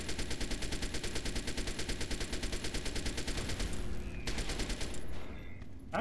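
An Ultra SMG in Fallout 3 fires in long, rapid, loud automatic bursts at close range, a dense even rattle that stops briefly near the end and then resumes, with no speech.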